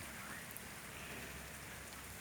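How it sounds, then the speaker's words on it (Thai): Steady rain pours onto a pavilion roof beside a reservoir, a dense, even hiss of drops with no voices, constant and close throughout. "สักพักก็เกิด ฝนตกนะครับ ก็เลยติดฝนอยู่ที่ศาลาแห่งนี้นะครับ"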